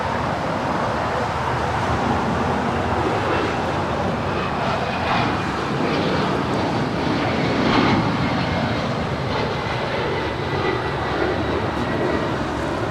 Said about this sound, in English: This Gulfstream is departing to Dallas Love Field, I believe.